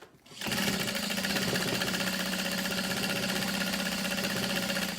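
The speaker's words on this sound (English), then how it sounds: "So we're gonna start at the top, back stitch." A sewing machine back stitching through glitter vinyl for a backpack, starting after a brief quiet moment and then running in a fast, steady, loud mechanical hum and rattle until the end.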